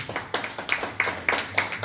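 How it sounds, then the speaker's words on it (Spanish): Rhythmic clapping in a church, steady evenly spaced claps about three per second, moderately close, with faint voices underneath. "Denle un fuerte aplauso al Señor,"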